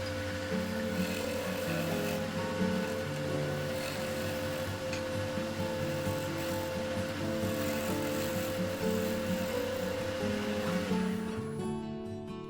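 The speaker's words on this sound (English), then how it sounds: "I make a few final passes with the round carbide chisel to smooth and level both" A round carbide chisel makes final smoothing passes over epoxy-filled pine cone pen parts on a lathe, a continuous scraping, rubbing hum with a steady tonal drone, close and even for the whole stretch.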